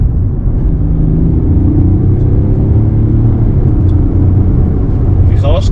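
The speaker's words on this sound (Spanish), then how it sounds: "Fijaos que el sonido es muy parecido al de un motor de gasolina." A Mercedes CLS 400d W257 diesel engine accelerating hard with downshifts, heard as a loud, steady low rumble with rising engine tones, sustained close up for several seconds.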